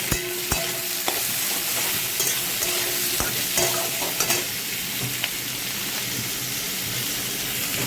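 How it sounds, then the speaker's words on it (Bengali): Onions fry in a pan with a steady, close hiss and crackle, and occasional sharp taps from a stirring spoon, without any voices. "পেঁয়াজটা একটু ভাজা হোক।"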